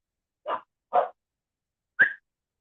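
Dogs in a home bark in three short, sharp bursts, two close together and one after a pause, fairly loud and with no talk over them.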